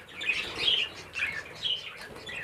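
Small pet birds, recessive harlequin and other colour mutations kept in an aviary, chirp in a steady run of bright, close tweets with no talking.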